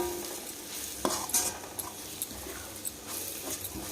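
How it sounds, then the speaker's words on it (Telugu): Beetroot masala with fresh ground coconut being fried and stirred in a pan on a low flame, soft sizzling under repeated scraping and clinking of a spoon against the pan, close and fairly quiet. "బాగా యాగాలి సిమ్లో పెట్టి మాడనీయకుండా యాగాలన్నమాట"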